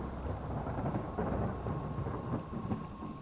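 A thunderstorm in the Legendary Hunter VR hunting game, with steady rain and low rolling thunder, continuous and close, no voices.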